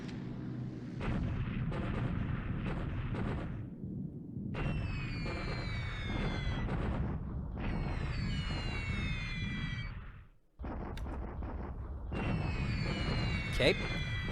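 Bombing-raid explosions rumble in the video game War in the Pacific AE, set in February 1942. Deep, continuous booms are joined by high descending whistles in several waves, with one brief drop-out.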